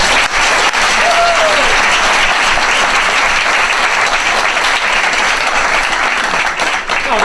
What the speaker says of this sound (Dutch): En dan wil ik jullie nu vragen een applaus voor Geert-Jan van Beieren.